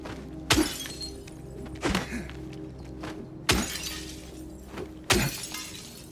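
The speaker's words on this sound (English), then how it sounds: "This is something that I usually always do in Silent Hill 2, is just breaking the glass, because the sound effects is just pretty crispy." In Silent Hill 2, car windows are smashed with a wooden plank: four crisp, loud glass-shattering crashes at roughly 1.5-second intervals, each with a sharp impact and scattering shards over a low ambient hum.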